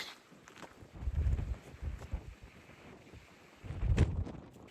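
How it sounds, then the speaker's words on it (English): Heavy wind on the Missouri River in South Dakota buffets the microphone with low, rumbling gusts that swell and fade, peaking loudly near the start and again toward the end. "You can tell it's windy, everybody"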